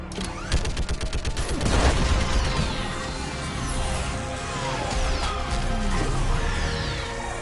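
An orbital strike fires in the video game Mass Effect, a rapid volley of loud heavy blasts followed by a rumbling, crackling barrage that carries on for several seconds.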